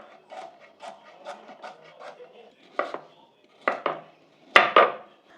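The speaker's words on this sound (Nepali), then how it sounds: "अब पिस पारेको गाजरहरू चाहिँ यसरी म कुकरमा हाल्छु" Cut carrot pieces for gajar halwa are dropped into a pressure cooker, giving a run of soft tapping clatters followed by a few louder knocks and clunks, with no talk over them.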